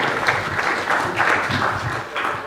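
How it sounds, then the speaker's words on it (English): An audience at a broadcasters' convention in Southern Africa claps in a short burst, the applause uneven with loud and softer patches. "Shall we give him another round of applause?"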